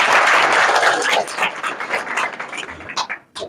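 Applause for a top-ranked student at a school farewell ceremony, a burst of clapping that starts dense and loud, then thins into scattered claps before fading out.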